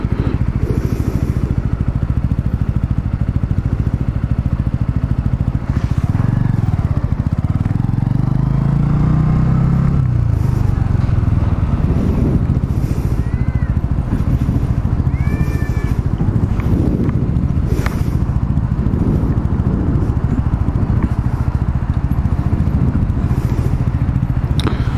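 A Sinnis Outlaw 125 motorcycle engine rumbles continuously and loudly throughout a ride on roads in Wales, with revving swells, passing traffic and occasional high squeaks over the steady drone.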